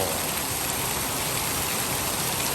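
Very heavy rain pours onto the road in front of a house in a dense, unbroken hiss of water striking pavement, loud and close with no voices.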